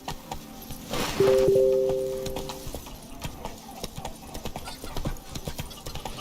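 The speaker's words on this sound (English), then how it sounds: "Even a horse drops if you ride it with a constant gallop." A horse's hooves clip-clopping in a steady rhythmic beat on a hard surface, with a short tonal sound near the start and faint background noise throughout.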